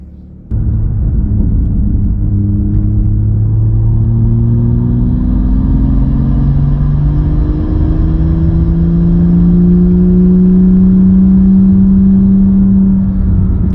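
BMW M2 F87 being driven, a loud close interior engine drone that rises in pitch through the gears as the car accelerates, with steady road rumble underneath.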